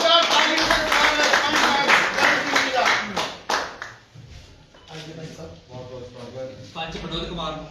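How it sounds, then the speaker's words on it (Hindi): An audience at a political joining event claps to welcome a new party member, dense rhythmic clapping that fades out midway, then a voice speaks over a resumed lighter clapping. "पंच करण सिंह जी, जोरदार तालियों से स्वागत"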